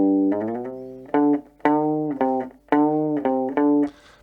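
Rockabilly electric guitar plays the second phrase of a song, a run of picked single notes with two upward bends, crisp and close, played alone without talk.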